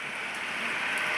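Steady rain falls on an open spot where an animal stands tethered without shelter, a dense even hiss close by and unbroken, with no voices.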